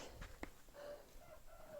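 A rooster crows in a short burst with clucking around it, fairly close and mid-level, with no talking.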